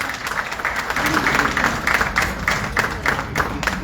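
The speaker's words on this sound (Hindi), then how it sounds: "तो मैं चाहूंगा कि उनके लिए एक जोरदार ताली होनी चाहिए।" A crowd at a Mumbai film press conference breaks into hearty applause, a dense wash of clapping that swells in rhythmic surges throughout.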